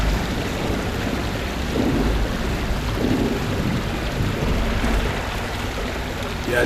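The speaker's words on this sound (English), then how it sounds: "It might be the waterfall." A waterfall in the GameGuru Max video game, a steady broadband rush of falling water that stays constant and fairly loud from start to finish.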